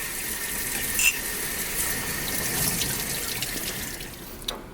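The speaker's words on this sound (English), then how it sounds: "I like to kind of go back over this with some soap and water just to clean off whatever it is that's in this compound." Water runs steadily from a tap while a glass wine bottle is washed with soap, with a continuous rushing splash and a couple of brief clinks of glass near the start and end.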